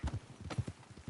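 Horse hooves in Red Dead Redemption 2 clip-clop in a quick, even walking rhythm, several crisp close hoofbeats in a short burst.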